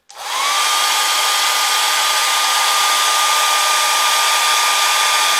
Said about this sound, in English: I'm going to take the little hair dryer over here